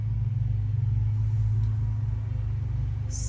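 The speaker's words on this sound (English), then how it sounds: "their mower is super loud" A loud lawn mower runs nearby with a steady low engine drone that holds constant and unbroken for the whole stretch.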